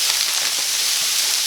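Turkey bacon frying in a pan for a country breakfast, a steady close sizzle with a continuous bright hiss and no talking.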